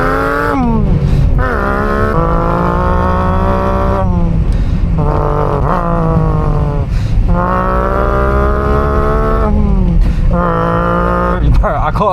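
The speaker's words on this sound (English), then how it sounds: "fake sounds coming from the engine" VW Up 1.0 hatchback playing fake V8 engine sounds, loud and close, with repeated rising revs through gear changes separated by brief dips, continuing for the whole run.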